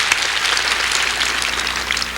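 A church congregation applauds during a Sunday worship service, a dense, loud and continuous clatter of many hands clapping together with no pauses.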